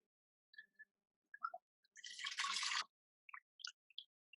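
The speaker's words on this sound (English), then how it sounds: "I'm going to pull something out of the water tank and hopefully" Water drips and trickles off an object lifted out of a water tank in an artist's studio: scattered single drops, a brief splashy pour in the middle, then a few more drips, close and quiet.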